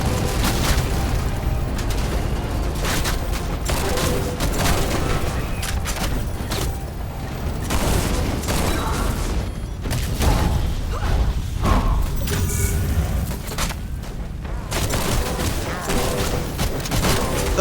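A railgun-like shotgun fired repeatedly at ships in the Spacelords game, producing a dense run of sharp punchy blasts and mechanical clanks mixed with thuds and constant action noise.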